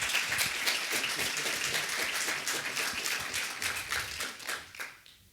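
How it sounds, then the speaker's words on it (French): Seminar audience applauding after a talk on SEO link-building and content strategy, a steady patter of many hands that fades out over the last second, with no voices. "je veux bien les petits applaudissements"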